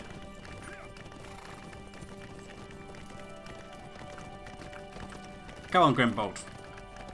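A horse ridden at a slow pace in Lord of the Rings Online, its hooves clip-clopping steadily under game ambience, then a loud close whinny near the end, with someone speaking briefly to the horse.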